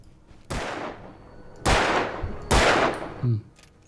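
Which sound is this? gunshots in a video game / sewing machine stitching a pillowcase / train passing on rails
gunshots in a video game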